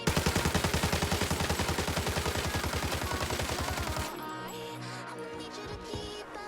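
A rapid, evenly spaced burst of automatic gunfire from Arena Breakout rattles loudly for about four seconds, then cuts to quieter game ambience with a few faint clicks.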